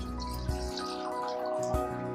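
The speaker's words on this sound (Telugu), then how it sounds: "ఓ గిన్నె, ఇందులో కాసేపు నీళ్ళు పోద్దాం." Water poured into a cooking pot while making Andhra tomato rasam, a continuous splashing trickle running steadily throughout with no one speaking.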